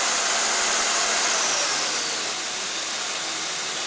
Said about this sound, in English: Direct drive 3 horsepower motor.